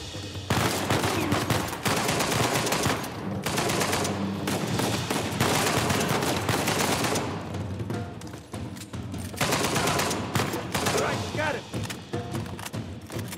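Sustained AK-47 fire in the video game Uncharted 4 Remastered, loud rapid automatic bursts with thuds and explosions, continuing in long stretches with only brief pauses.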